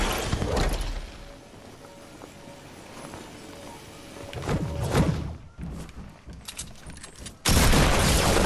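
An RPG rocket explodes in a first-person shooter video game, with loud booming blasts and heavy gunfire in a chaotic, dense mix that ends in a sudden loud burst.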